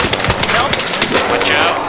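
Rapid bursts of video game gunfire in a multiplayer shooter, crackling in quick irregular volleys over a steady noisy background while players talk over the shots.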